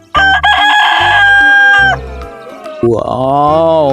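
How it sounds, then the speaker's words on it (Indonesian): A red rooster crows loudly and close in a rice-field setting, two or three strained calls with clucking in between, alone with no talk over it. "ini adalah ayam jago ya teman-teman"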